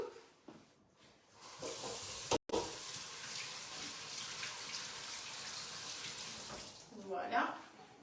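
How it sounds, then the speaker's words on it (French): Radishes rinsed under a running tap give a continuous splash and hiss of flowing water, cut off by a brief gap, then a louder gurgle near the end, close by. "Je vais les rincer sous l'eau."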